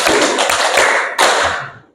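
A classroom group claps hands together in a counted pattern, with several sharp, loud unison claps and a brief pause between the last two, and no talking.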